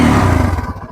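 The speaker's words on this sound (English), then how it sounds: "that's how the stubby exhaust of the 2024 N250 sounds" A 2024 Bajaj Pulsar N250 with a stubby exhaust gives a loud, close engine rev that swells at once and falls away within a second, with a pulsing low rumble.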